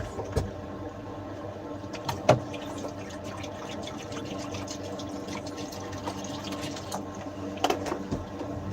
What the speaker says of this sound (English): Gotta throw some water in this over here.